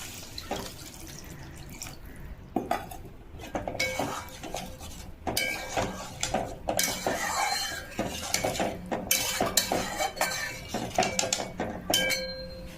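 A lid set down on a cooking pot of vegetarian paneer curry, a few clinks and knocks of metal cookware among steady kitchen clatter and dripping, close by with no talk.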